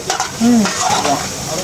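Rasbondia fritters fry in oil at a roadside hotel and tea stall, giving a close, continuous sizzle with a voice briefly heard over it.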